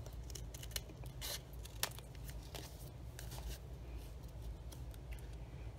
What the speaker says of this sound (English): you're gonna cut off the slithers, just a slither, so they can open all the way up.